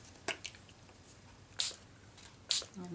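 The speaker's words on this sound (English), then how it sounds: "I'm just going to spray those spots" A few quick, hissing sprays of water from a spray bottle, spaced a second or so apart, close by in a quiet room, during mixed-media art work.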